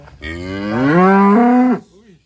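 A single cow gives one long, loud moo, close and clear, rising slightly in pitch before cutting off, with no talking over it.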